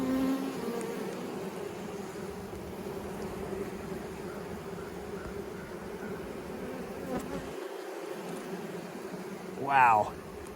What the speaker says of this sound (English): They're really buzzing like crazy in there right now.